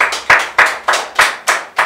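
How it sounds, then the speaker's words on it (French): At a Congolese television casting, a single pair of hands claps in a slow, steady rhythm, about six loud, close, evenly spaced claps with short decays between them. "Sous vos applaudissements, mesdames, messieurs."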